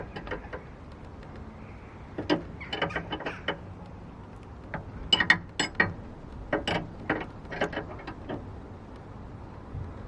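Metal wrench clicks and ratcheting turns while anti-roll bar bolts are tightened on a Mazda MX5, a scattered series of sharp close ticks and short bursts with quiet gaps between them.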